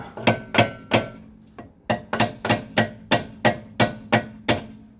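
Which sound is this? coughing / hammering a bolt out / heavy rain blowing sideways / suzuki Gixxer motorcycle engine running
hammering a bolt out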